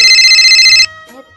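A telephone rings with a loud, bright electronic tone that holds steady for under a second before cutting off, leaving only faint room sounds behind it.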